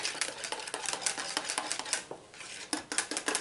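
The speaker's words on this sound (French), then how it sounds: "On vient mélanger" A utensil stirs cream and milk in a bowl while preparing a mint chocolate crunch dessert, giving rapid, close, repeated scraping clinks with a brief lull midway.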